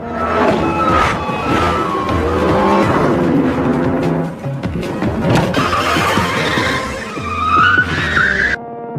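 Loud engines roar past with squealing, skidding tires in a Fast & Furious film chase as two flee the police, a frantic soundscape building to a high screech near the end.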